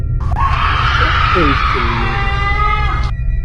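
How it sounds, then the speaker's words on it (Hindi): A cartoon character screams from behind a house in a graveyard setting, one long, loud, sustained cry with wavering pitch that breaks off sharply, with a few low groaning tones underneath. "तभी उस घर के पीछे से किसी की चीखने की आवाज आने लगती है।"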